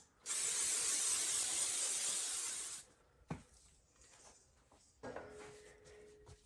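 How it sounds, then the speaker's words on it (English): Olive oil cooking spray hisses onto a kitchen counter in one long, close, loud burst, followed by a soft knock and faint handling clatter. "I'm just going to go ahead and spray my counter with a really light coating of olive oil cooking spray."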